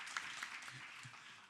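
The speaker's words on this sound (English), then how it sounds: "Let's give them another round of applause." A conference audience claps briefly for a panel of speakers, a short, fairly faint burst of applause.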